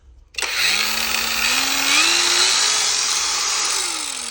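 A cordless angle grinder spins up and runs continuously at high speed, a loud steady whine with pitch rising slightly as it revs, no talking.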